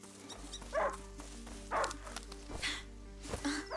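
A hunting dog in the video game A Plague Tale: Innocence gives a few short yipping barks over a steady low game hum, with brief rustling between them.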